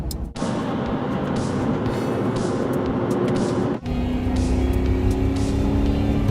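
A loud 1985 Lamborghini Jalpa engine drones at high revs, briefly dropping off as the gear changes before climbing again into a steady, strained roar.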